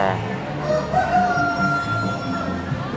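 At a chicken breed show in Bang Khae, a rooster lets out a drawn-out crow near the middle, with soft clucking and background bustle around it.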